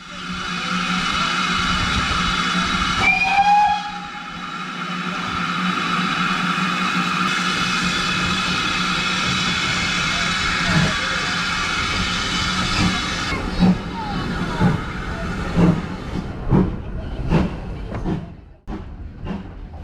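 A heritage steam train on the Gloucestershire and Warwickshire Railway gives a short whistle, then pulls away with a continuous hiss of steam and rising rhythmic chuffs and clanks, loud and nearby, with no talk.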